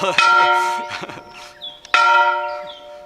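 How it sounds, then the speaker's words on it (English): A church bell rings close and loud at the Monroe Valley Chapel, with two clear strikes that ring out and slowly decay between them. "someone in there is ringing the bell"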